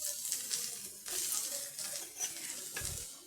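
Onions and ground coconut sautéing in a pan for a Madurai-style sirakakkai poriyal, with bursts of sizzling and scraping stirring strokes that come in uneven waves, plus a brief low thump near the end.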